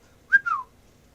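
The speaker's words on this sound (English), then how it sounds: "He sprang to his sleigh, to his team gave a whistle" Two short whistle notes, the first rising briefly and the second sliding downward, clear and close against near silence.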